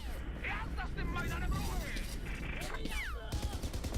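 Gunfire burst in the video game Battlefield 4: dense crackling shots mixed into a busy battle soundscape, with voices and whistling effects over the top.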